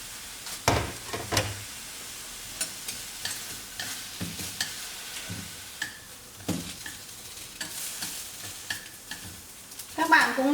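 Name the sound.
ginger and onion roasting in a pan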